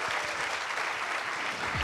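An audience applauds a Vendée Globe skipper at the race village before the start, a dense, steady wash of clapping that continues throughout.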